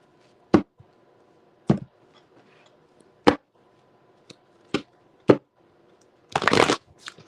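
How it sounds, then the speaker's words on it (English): Tarot cards being handled and shuffled close by: six sharp, separate slaps or taps spaced about a second apart, ending in one longer riffling burst, with no talking over them. "Let me shuffle these up and then we'll get going."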